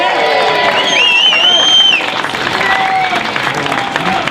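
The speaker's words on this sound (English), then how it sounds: "Ladies and gentlemen, big round of applause for my friend SkipMurphy" An audience breaks into loud applause with cheers and whistles at a political gathering, the clapping dense and close, mixed with crowd chatter.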